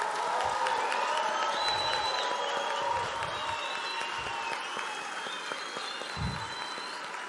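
A large audience at a conservative event applauds continuously, a dense wash of clapping with scattered cheers and whoops, fairly distant and steady throughout.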